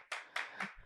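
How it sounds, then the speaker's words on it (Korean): A handful of faint hand claps at a Korean exam-prep information session, three or four quick separate claps close together within a second. "박수 쳐주셔도 됩니다."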